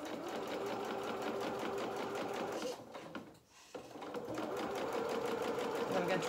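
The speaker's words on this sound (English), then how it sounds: "And now we're going to sew down the other side." A sewing machine stitching a dress bodice runs in a steady, fast mechanical whir, pauses briefly midway, then resumes at the same close, even pace.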